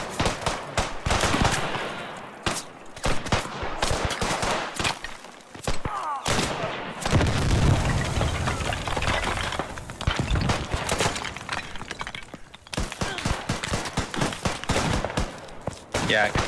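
A mounted machine gun fires from a window in the video game Beyond The Wire, loud rapid bursts repeating across the whole stretch with brief pauses, plus clattering and breaking sounds mixed in.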